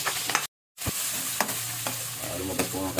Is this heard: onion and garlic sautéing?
yes